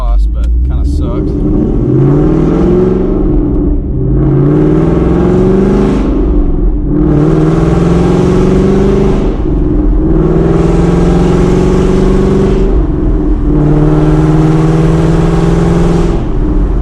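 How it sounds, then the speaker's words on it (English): A loud, deep V8 exhaust from a 2017 Ford Mustang 5.0 rumbles close by as the engine repeatedly accelerates through the gears, each surge rising in pitch before dropping back. "so I guess there's another chance to hear the exhaust"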